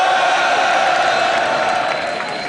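A large crowd at an esports League of Legends LCS match in Lille roars and cheers in a dense, sustained wash of voices and whoops, loud and continuous, fading slightly at the end.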